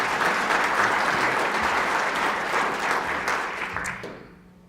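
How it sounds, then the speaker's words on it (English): Loud, dense applause from a large audience at a mayor's State of the City address, steady for several seconds before fading out. "That deserves an applause."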